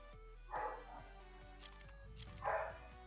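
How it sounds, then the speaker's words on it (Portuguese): A pet female dog barks twice in a house, two short, distinct barks about two seconds apart, set back from a faint steady electronic hum. "a cachorra tava latindo aqui"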